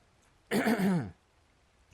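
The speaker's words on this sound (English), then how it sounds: "clearing my throat" A single short throat clearing comes from a nearby man during a game commentary, followed by a brief start of another sound at the very end.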